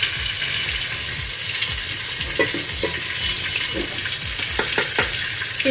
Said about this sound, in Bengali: এখন আমি এই তেলটা দিয়ে দিব কড়াইয়ে।